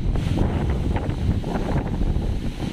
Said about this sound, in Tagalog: Sobrang lakas na ng hangin dito.